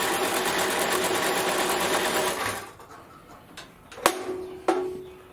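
A bandsaw that tends to throw its blade off the pulleys runs with a dense, rapid mechanical whir, then winds down and falls quiet after a few seconds. Two sharp metallic clacks ring out near the end.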